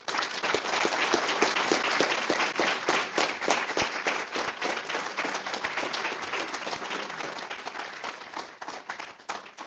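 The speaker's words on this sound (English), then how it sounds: "would you all join me in giving a round of applause" An audience at an award ceremony breaks into lively applause, many hands clapping densely and fairly loudly at first, then thinning slightly as it carries on for several seconds.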